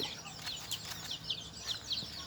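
Free-range chickens cluck in a yard, soft repeated clucks from several birds at moderate distance over a steady outdoor background.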